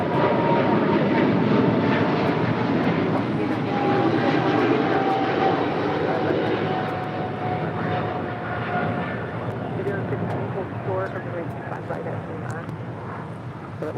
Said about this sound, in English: That is China Cargo Airlines 222 departing to Shanghai on the 777 freighter.